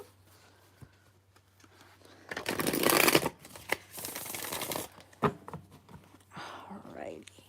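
A deck of tarot cards is shuffled up close in two or three riffling bursts, with soft handling noises in between and faint voices underneath.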